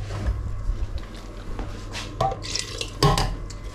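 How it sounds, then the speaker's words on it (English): Water splashes and rattles inside an emptied tin of peeled plum tomatoes as it is rinsed in a kitchen, with light metallic clinks and drips, fairly close and without talk. "Always rinse the tin."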